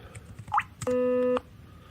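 Two sine waves at 250 Hz and 500 Hz, merged with SoX, form a steady, loud electronic tone. It lasts about half a second and follows a couple of faint short chirps.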